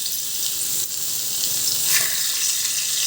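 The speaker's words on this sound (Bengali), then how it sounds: "এবার গ্যাসে তেলটা যখন কড়াইতে বসিয়ে যখন তেলটা গরম হয়ে যাবে, তখন একে একে মাছগুলো ছাড়তে হবে।" Pieces of boal fish frying in hot oil in a wok give a steady, loud, close sizzle with crackling spits that swell briefly midway, and no voices over it.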